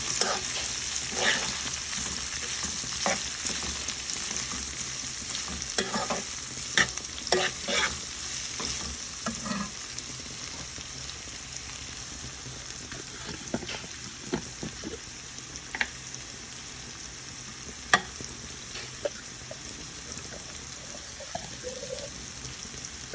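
Thin slices of bitter gourd sizzle in oil and are stirred steadily in a pan. A constant hiss runs beneath repeated scraping and clinking of the spoon, close and at moderate loudness, with no talking.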